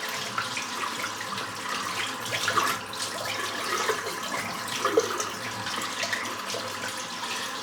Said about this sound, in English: Wait for that nice warm water to come through